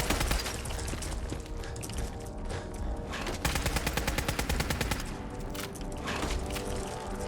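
Sustained gunfire from a weapon in the Fallout 4 video game, with dense rapid shots crackling almost continuously over a busy game soundscape, loud and close, with a few heavier thuds and short gaps.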